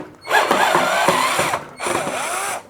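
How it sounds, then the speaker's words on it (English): A cordless driver removes the four screws holding the motor inside a Hotpoint or Indesit cooker hood during a repair. Two close bursts of whirring, ratcheting driver noise are separated by a short pause. "undo these 4 screws. That will release the motor"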